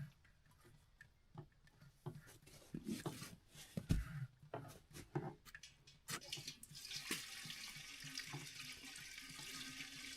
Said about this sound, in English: get some nice fresh rainwater this time in the pot